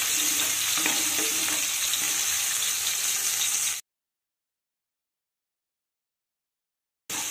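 Tomato stirred and fried in a pan gives a steady, fairly quiet sizzle with light stirring for about four seconds, then cuts to silence before briefly resuming at the end.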